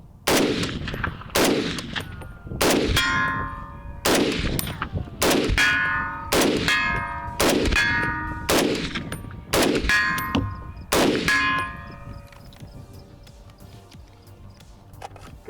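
Mosin rifle shots strike steel targets in a regular series of about ten loud, sharp clangs, each ringing briefly before the next, with the reports fading out toward the end.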